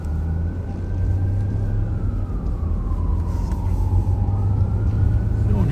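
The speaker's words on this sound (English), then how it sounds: "I hear a siren." A siren on a passing emergency vehicle, likely a fire truck, heard from inside a moving patrol car in Ramsey County on a January night; its wailing tone sweeps slowly downward over steady road and engine rumble.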